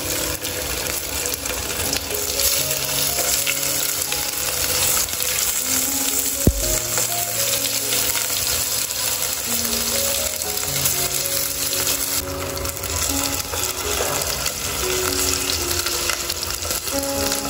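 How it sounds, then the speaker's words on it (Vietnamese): Tofu fried briefly in a pan, a steady loud sizzle and crackle running throughout, with occasional stirring clatter and some background tones, no talking. "Giờ mình sẽ chiên cái đậu hũ ha."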